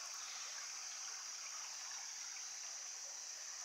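A river flows beneath a covered bridge restored with steel beams, a faint, steady distant rush of water with no voices.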